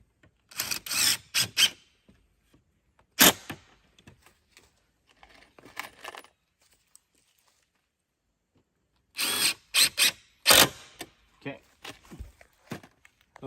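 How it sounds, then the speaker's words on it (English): Reclaimed pallet boards are screwed onto a wooden bed frame with a power drill, heard as short close whirring bursts in uneven groups separated by quiet pauses. "Now we're going to just screw those into the back here."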